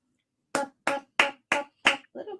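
A young child claps hands five times in a steady, fairly quick rhythm, close and crisp, followed by a softer, scrappier final clap, with quiet room background between.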